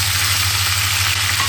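Cumin, curry leaves and dried red chilies crackle in hot oil for a tempering, a loud, even, continuous sizzle over a low steady hum.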